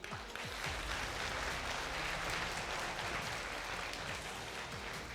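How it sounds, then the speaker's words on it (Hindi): An indoor audience breaks into dense, steady clapping that carries evenly for several seconds, many hands overlapping at moderate distance with no voices rising above it. "4 लाख, ताली तो बजा लो।"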